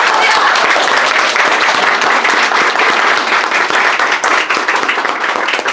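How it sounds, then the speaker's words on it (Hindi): Loud, dense audience applause at a felicitation for a CBSE class 12 topper, continuous clapping filling the whole stretch with some faint crowd murmur underneath. "उसके लिए जोरदार ताली बजाएं।"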